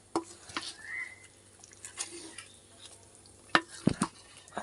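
A spoon stirs wild-mango pulissery curry in a pan flavored with ghee, making sporadic scraping knocks and clinks over a faint, steady sizzle.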